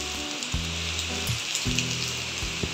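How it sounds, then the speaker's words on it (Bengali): Steady rain hiss with gusty wind during Cyclone Remal, a continuous broadband wash at a moderate level with some low rumbling bursts from the gusts. "হাওয়া দিচ্ছে আর বৃষ্টি।"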